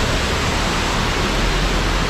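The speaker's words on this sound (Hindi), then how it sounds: "एक झरना था" Waterfall beside a half-melted glacier on the way to Ratti Gali lake, a steady, dense broadband rush of falling water that stays constant and close throughout, with no voices.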